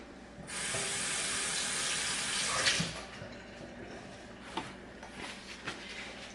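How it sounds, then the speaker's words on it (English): Hands washed under a running kitchen tap during crab cake preparation: a steady rush of water, loud at first, then softer splashing with a few clunks as the hands move. "I'm going to wash my hands real quick."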